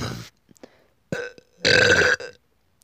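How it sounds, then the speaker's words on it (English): A man's burp rings out loud and close for roughly half a second, a rough, drawn-out belch that stands alone after a few short, softer vocal sounds. "I've been burping a little bit too much today"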